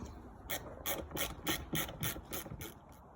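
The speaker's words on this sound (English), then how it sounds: "Okay, so we have now removed all the bolts, and Sean is going to pull off the cover." A ratchet wrench works bolts loose from a Sea-Doo personal watercraft's engine cover, giving about ten evenly spaced sharp clicks close by.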